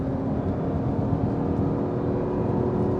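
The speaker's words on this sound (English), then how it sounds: "A blip of the throttle on the downshift there." The V8 engine of an Audi R8 with a manual gearbox drones steadily close by, with a brief throttle-blip rev swelling and settling on a downshift, no voices over it.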